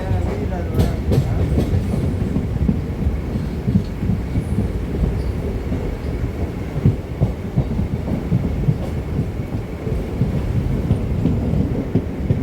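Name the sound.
train entering Ennore railway station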